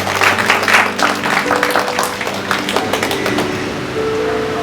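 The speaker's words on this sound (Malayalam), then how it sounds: "പറയുമ്പോൾ കൈയടിക്കണം എന്നുള്ളതാണ് എൻ്റെ ആഗ്രഹം" Audience applause at a church parish family-unit gathering in Aluva: a burst of dense clapping that thins and fades over a few seconds, with a faint tonal background underneath.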